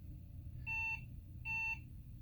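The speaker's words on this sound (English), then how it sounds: "2 beeps, I don't know what that means." An AST laptop with an AMD 386 25 MHz processor gives two short, evenly spaced electronic beeps at startup, steady and clear over a low background hum.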